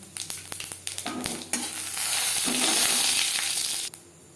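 Mango pieces frying lightly in hot oil with a dry red chilli and panch phoron, a loud close sizzle swelling steadily, with a few stirring scrapes and clinks at the start.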